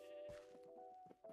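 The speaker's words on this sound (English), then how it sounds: "Come on, Mr. Sheep, this way." A Minecraft sheep bleats once, a short wavering cry with a faint thump alongside, heard up close and fairly quiet.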